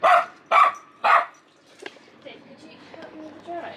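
A dog indoors in a tiny house during freezing weather gives three loud, close barks in quick succession, followed by quieter household sounds and faint voices.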